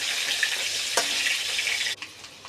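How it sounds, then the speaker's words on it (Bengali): Potatoes and onions fry in mustard oil in a pan, giving a constant, fairly quiet sizzle with a stirring clatter near one second before it cuts off abruptly, with no talking. "পেঁয়াজ দিয়ে দিছে, পেঁয়াজ আর আলু ভাজা হয়ে গেছে"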